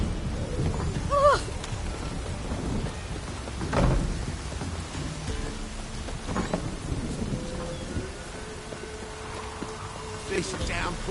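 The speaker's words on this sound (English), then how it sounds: "This downpour's a bastard." Heavy rain pours steadily while rolling thunder rumbles several times in The Witcher 3: Wild Hunt, with scattered voices and game effects mixed in.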